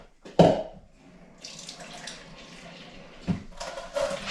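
A kitchen tap runs water while corn tortilla dough is being made, a steady close splashing rush with a louder burst near the start and another midway, faint clatter in between.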